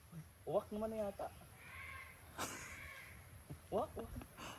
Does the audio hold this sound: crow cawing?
yes